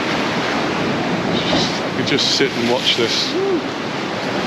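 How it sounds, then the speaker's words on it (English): Big ocean waves break and wash onto the shore at Sant Elm on Mallorca, a constant broad rush of surf with gusts of wind. A person speaks briefly over the crashing water. "there's some big waves coming in now. Some bigger waves, big one coming there, look."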